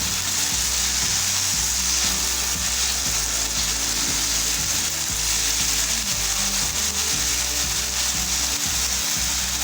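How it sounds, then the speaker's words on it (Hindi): Potatoes frying in oil for an egg masala give a steady, dense sizzle that runs unbroken at an even level throughout, with rubbing and scraping layered beneath and no voices. "अभी हम अच्छे से जो है वो हमारा आलू फ्राई कर लेंगे"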